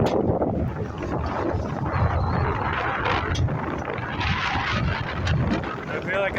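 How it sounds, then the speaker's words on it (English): Strong wind at a lake on a blustery day, roaring and buffeting steadily and loudly across the whole stretch with a low rumble, while people talk faintly underneath. "I think you can probably hear the wind."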